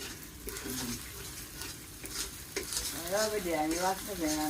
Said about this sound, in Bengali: সব মশলা দিয়ে আলু দিয়ে এখন কষানো হইতেছে